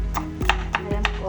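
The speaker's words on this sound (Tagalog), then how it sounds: "Kailangan talaga binabatukan yung bawang." Garlic is pounded for pancit bihon, with about four evenly spaced thuds roughly a third of a second apart and a low voice faintly under the strikes.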